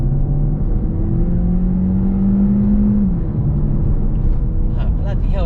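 A Cupra Formentor e-hybrid accelerates hard in sport mode, its steady engine drone loud and continuous, with a sustained tone that climbs briefly before settling.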